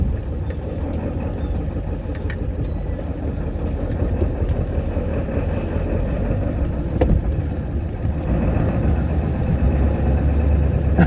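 A Ford OBS Powerstroke diesel truck engine runs with a continuous low, rumbling drone heard from inside the cab while driving, steady and fairly loud with no talk over it.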